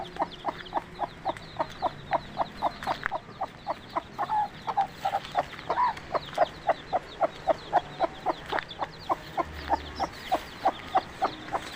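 A small chicken clucking in a rural yard, rapid regular clucks repeating steadily over about twelve seconds, fairly close and clear against quiet outdoor background.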